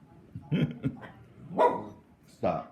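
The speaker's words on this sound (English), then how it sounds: "excuse my dog" A pet dog named Pepper barks several times in short bursts close by indoors, with a person speaking to it between the barks.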